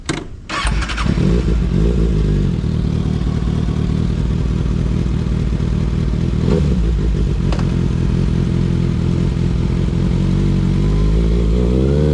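A Kawasaki Ninja ZX-6R 600cc sport motorcycle with an Austin Racing exhaust starts and revs loudly up close, then holds a steady, throaty idle with a couple of blips.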